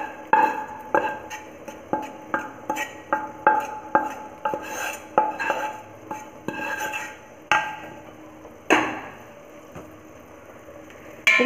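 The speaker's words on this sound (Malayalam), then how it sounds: "ഇതെല്ലാം കൂടെ ഒന്ന് യോജിപ്പിച്ചെടുക്കാം." Spoon stirring sautéed onion, green chilli, ginger and garlic into a drumstick leaf soup in a pot, a steady run of close clinks and scrapes with a few louder knocks, no voices.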